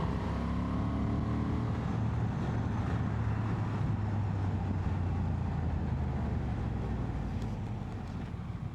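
A Honda XL750 Transalp motorcycle with an E-Clutch rides at speed during an overtake, its engine a steady low drone buried under heavy wind rush, fairly faint and continuous throughout.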